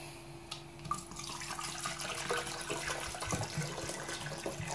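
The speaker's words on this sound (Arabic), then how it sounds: "نحطوا الماء" Water poured into a container as the base for homemade sharbat syrup, a steady splashing pour that builds in the foreground and runs throughout, with no voices.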